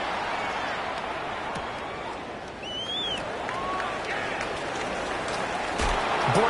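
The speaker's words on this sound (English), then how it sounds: "I'm starting to detect an uneasy murmur through this crowd" Dense, steady crowd noise fills a football stadium as the home crowd murmurs uneasily during a punting situation on fourth down. The broad rumble holds constant, and a few faint whistles and calls rise above it.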